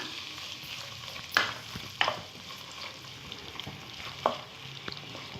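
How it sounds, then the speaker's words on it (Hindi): Chopped onions sizzle in half a cup of hot oil in a pan for spiced keema, with a steady soft frying hiss punctuated by a few sharp clinks and scrapes of a stirring spoon. "इसमें मैं अब ये प्याज ऐड कर रही हूँ"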